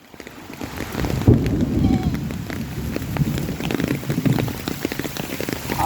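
Heavy rain pours down outdoors, a dense, loud patter of drops hitting surfaces that builds in the first second and then holds steady, with a low rumble underneath.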